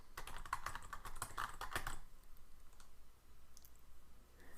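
Quick burst of clicky computer keyboard typing entering a Linux command, several rapid keystrokes close and clear for about two seconds, then faint room quiet with a couple of light clicks.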